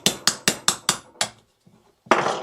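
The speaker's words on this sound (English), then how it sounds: "Now I wouldn't normally tack it with a hammer" Sharp metallic hammer taps on the turbocharger impeller of a Ford Fiesta 1.0 EcoBoost being overhauled, six quick evenly spaced blows, a short pause, then one more louder strike, close and clear.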